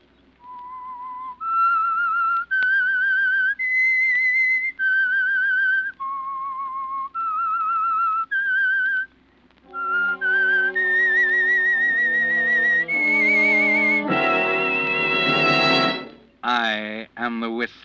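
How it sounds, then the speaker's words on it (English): A lone whistler performs the eerie theme of The Whistler radio mystery show, a slow melody of sustained pitched notes. It then rises into a swelling orchestral passage that ends in sharp, loud chords. "That whistle is your signal for the Signal Oil Program"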